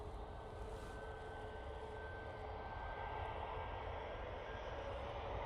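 Ryanair airliner on its takeoff roll at Manchester Airport, a steady distant jet roar with a thin engine whine held throughout, heard alone without talk.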